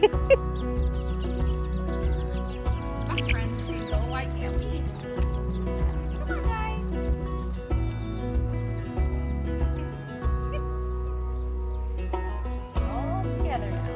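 Chickens, including young chicks and grown hens, cluck and chirp intermittently over a steady, loud low hum that continues throughout.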